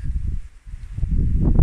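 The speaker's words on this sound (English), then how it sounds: "Yeah, it's pretty windy, and the wind is blowing the wrong way." Gusty morning wind outdoors buffets the microphone with a low, rumbling roar that dips briefly before surging back stronger.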